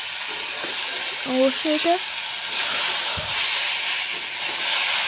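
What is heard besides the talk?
curry being sautéed in a pan, sizzling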